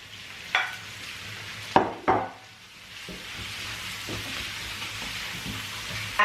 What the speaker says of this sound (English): So now I'm going to add all my shrimp. I'm just going to throw all my shrimp in here.